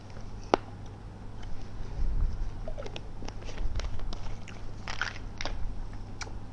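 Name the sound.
person chewing processed black seed (habbatus sauda)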